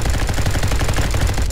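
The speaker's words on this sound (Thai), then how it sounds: "มียิงกันผมว่าเสียงเกมทำมาโอเคอยู่นะ" Rapid automatic gunfire in a Roblox shooter modeled on Call of Duty, loud and close, a dense unbroken stream of shots with a steady rattling rhythm and no voices.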